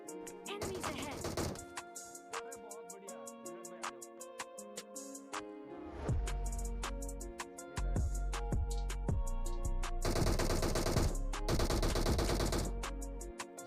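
Dense bursts of automatic gunfire from a PUBG battle royale match, loud rapid volleys and single shots close by, with heavy low booms, explosions and game music running throughout; no talk.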